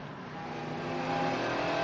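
A slightly modified race car at Donington during a practice session, its engine droning steadily and building in pitch and loudness as it accelerates, heard alone without talk.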